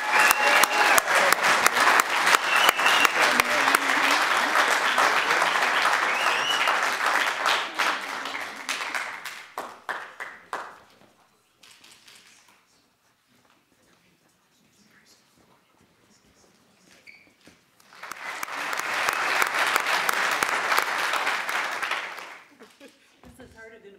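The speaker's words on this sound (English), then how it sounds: "All right, shall we cheer them on?" Applause with some cheering from the crowd at a bus rapid transit funding ceremony, a loud sustained burst that fades out, then a quiet stretch before a second strong wave of clapping.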